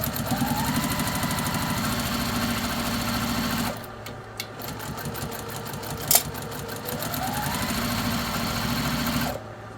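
A sewing machine back stitches through quilt binding, its needle hammering in a fast steady rhythm, pausing briefly in the middle and then running again, close and loud with no talk.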